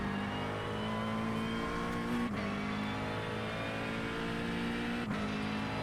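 GT3 race car in the iRacing simulator, a steady, loud engine drone heard from the cockpit, holding a constant pitch with two brief dips in tone, as at a gear change or lift, and no talk over it.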